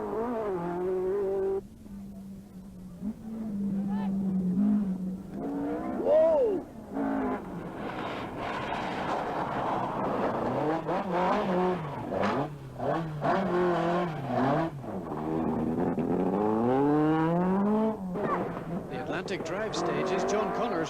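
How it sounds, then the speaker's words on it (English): A rally Opel Manta races through a junction on a 1986 Donegal Rally stage, its engine revving and changing pitch as the tail slides out. A commentator talks over it throughout. "Fourth is James McDaid, still hanging the tail out, getting caught at the same junction."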